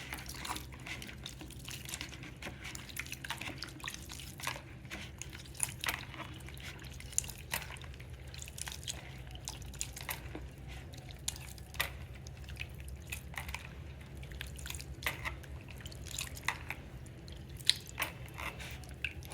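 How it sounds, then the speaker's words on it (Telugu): Tamarind pulp squeezed by hand to draw out its juice for pachi pulusu: soft, wet squelching and dripping, steady and close, continuing throughout with no talk. "ఈ చింతపండుని ఇలా బాగా గుజ్జులా పిసికేసుకొని"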